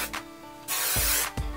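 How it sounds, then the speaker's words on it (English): Kenra number 25 hairspray is sprayed onto pageant-styled hair in a couple of close hissing bursts, one long spray followed by a shorter puff. "I'm gonna spray with the Kenra number 25 hairspray"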